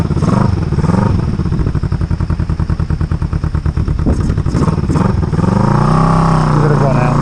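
A Honda EN450 bobber motorcycle runs loud and close, its engine pulsing in a rapid steady rhythm, then it revs and rides off as the note rises and falls.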